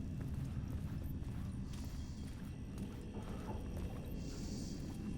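Echoing footsteps in the Alan Wake II video game, a faint, steady patter of repeated steps over a low, murky ambient rumble.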